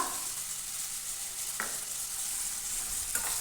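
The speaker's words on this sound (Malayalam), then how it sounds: "നന്നായൊന്ന് ഒന്ന് വഴറ്റി കൊടുക്കുക എല്ലാം കൂടെ" Chopped onions, green chillies and curry leaves sautéing in a pan for an egg masala roast, a soft, steady sizzle with a couple of faint scrapes from stirring and no talk.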